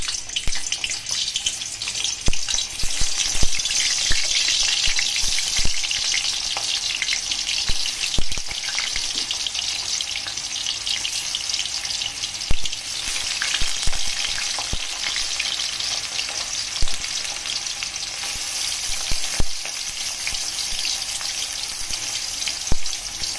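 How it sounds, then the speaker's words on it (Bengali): Taro and potatoes fry in hot oil in a karahi, a dense continuous sizzle with scattered pops and occasional stirring knocks, steady and close throughout with no talking. "এই পাশে আমি কচু এবং আলুগুলো ভেজে নিব সুন্দর করে। কড়াইতে তেল দিয়ে দিয়েছি, তেলটা মোটামুটি গরম হয়ে গেছে।"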